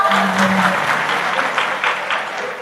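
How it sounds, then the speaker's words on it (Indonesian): Church audience applauding during a sermon, a broad patter of many hands that stays fairly loud and even, then thins slightly toward the end. "Kok udah tepuk tangan toh?"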